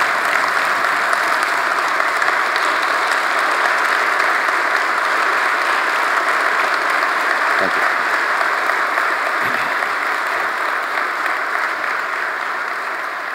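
Long, sustained applause from a corporate audience at a motivational talk by an army general, dense even clapping filling the room for over ten seconds without letup, fading slightly at the end.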